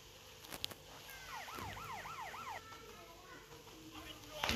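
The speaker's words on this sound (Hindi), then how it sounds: "गाइस सामने से ही पुलिस की गाड़ी आ चुकी है।" Wailing police car siren in a Grand Theft Auto Vice City driving game, a rising and falling electronic whoop repeating several times at moderate volume over steady game engine noise.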